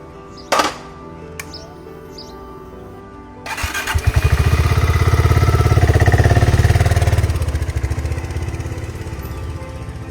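A new motorcycle engine starts after a sharp knock, then runs loud and steady close by for several seconds, its throbbing idle easing slightly toward the end, with no talking.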